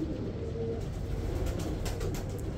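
Punjab flying pigeons, kept for low- and high-flying pigeon sport, coo steadily and close by in a soft low rumble that runs without a break.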